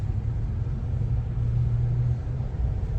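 Steady low rumble of city street traffic with cars passing continuously at moderate distance, a constant drone without pauses or distinct horns.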